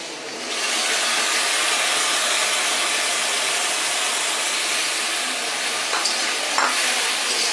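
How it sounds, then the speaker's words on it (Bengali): Onions, garlic and spice paste fry steadily in hot oil in a kitchen pan, a dense, continuous close sizzle and hiss with occasional stirring scrapes, no talking. "এখন আমার পেঁয়াজ আর রসুনগুলো সুন্দর করে ভাজা হয়ে গেছে"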